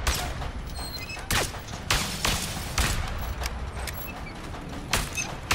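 Gunfire in the video game A Way Out, several sharp separated shots over a dense, noisy game background, fairly loud and spaced a second or so apart.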